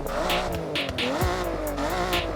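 Toyota Chaser drift build with a sport exhaust and upgraded cams in the racing game Forza Horizon, revving up and down in quick surges with a raspy, buzzy exhaust note, loud and close.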